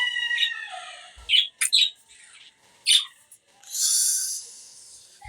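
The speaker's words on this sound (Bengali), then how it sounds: "এখন পাখিরা মাসাল্লাহ অনেক সুন্দর রোদ করছে" Pet birds at a home aviary giving several sharp chirps and squawky calls in short separate bursts, close and fairly loud, with a longer harsh call near the end.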